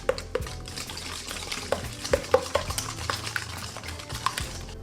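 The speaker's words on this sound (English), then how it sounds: "Now mix in the melted chocolate and butter." Batter being stirred as melted chocolate and butter are mixed in, with soft scraping and clinking of a utensil against the bowl, irregular close strokes with no talking.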